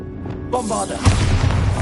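A Bombarda spell explodes in the PS5 game Hogwarts Legacy. A brief voice comes first, then a single deep, heavy boom hits and rumbles on for under a second.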